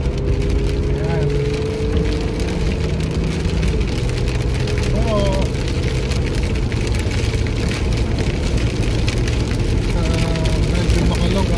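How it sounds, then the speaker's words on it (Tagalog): Heavy rain falls on a moving car driven without wipers, giving a steady dense patter and rushing hiss over a constant road and engine rumble the whole way through. "suungin na natin itong ulan na to"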